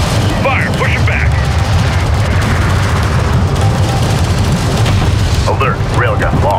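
Railguns firing at armored units in the Homeworld: Deserts of Kharak real-time strategy game, with a dense, loud continuous rumble of heavy booming fire, and brief radio-style voice chatter near the start and end.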